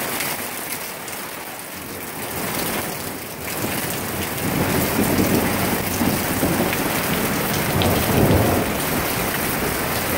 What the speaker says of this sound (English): pretty good little storm going on here